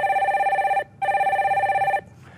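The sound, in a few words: telephone ringing while connecting the next caller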